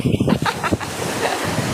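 Sea waves washing onto a beach at night during a lunar eclipse, heard as a steady broadband wash with light wind noise on the microphone and no clear break between swells.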